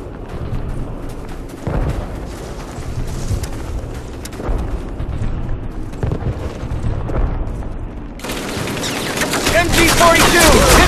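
German MG-42 machine gun fire in Call of Duty during a World War II village battle, with sustained rapid bursts rattling throughout, heavy booms mixed in, and shouting voices over the gunfire that grows louder toward the end.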